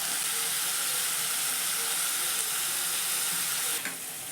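Tomatoes sauté with a little salt in a pan for lady's finger rice, a steady close hiss of sizzling oil running throughout without pause and easing slightly at the end, with no voices.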